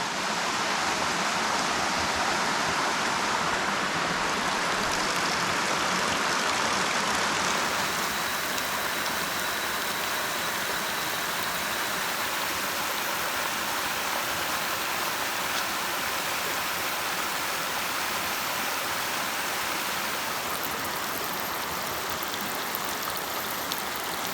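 Steady, dense trickle and splash of water draining through a handmade jungle water filter built from 100% natural materials, continuous and fairly close, with no voices over it.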